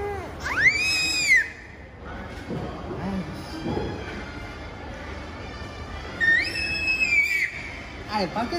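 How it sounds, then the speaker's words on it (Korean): A child lets out high-pitched shrieks twice, loud and close, with outdoor background noise and some talking between them. "밖에서 그렇게 소리 지르면 안 돼"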